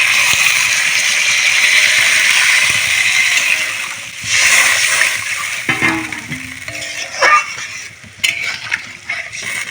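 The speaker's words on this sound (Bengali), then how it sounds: "এখন আমি দিয়ে দেবো জল" Water poured into a hot pan of sautéed potato and kohlrabi for a rui fish curry sets off a loud, steady sizzling hiss that fades, followed by scattered clatters and stirring.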